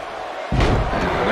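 A wrestler is slammed to the mat at a live Brooklyn wrestling show, one sudden heavy thud followed by a roaring crowd in a large hall.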